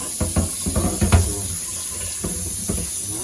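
Cold water runs from a tap into a pot of salt mackerel, a steady splashing stream with a few clunks and knocks near the start.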